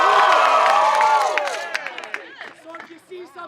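A theatre audience at a Dr Faustus performance lets out a loud cheer that swells at once and then fades into scattered whoops, claps and chatter, with voices mixed into the crowd noise.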